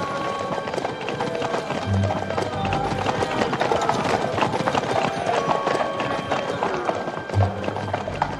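Steady, rapid clip-clop of horse hooves runs throughout, loud and close, over a busy bed of movement and faint background voices in a medieval Bohemian setting.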